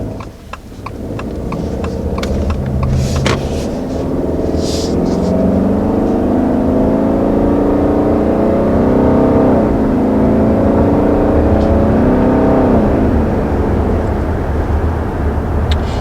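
A 2020 Subaru Legacy with a CVT pulls away and accelerates to cruising speed, its engine note rising in smooth stepped sweeps under steady road and wind noise, heard from inside the cabin with no talking.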